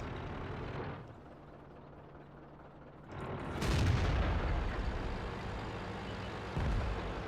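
A tank cannon fires in World of Tanks, a heavy booming blast that swells into a sustained low rumble over the engine drone, with a second thud a few seconds later.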